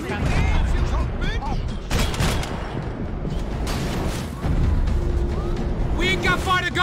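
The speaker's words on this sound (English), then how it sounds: "I don't even know where they're shooting at me from." Heavy gunfire and explosive booms from the video game Max Payne 3, dense and loud throughout, with bursts of shots layered under talking voices.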